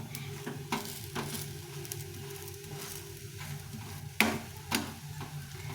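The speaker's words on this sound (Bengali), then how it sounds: "এভাবে সুন্দর করে ভেজে নিতে হবে" Food frying in a pan for a quick sweet dish, giving a low, steady sizzle under several distinct knocks and scrapes of a spatula stirring, with one louder clack near the end.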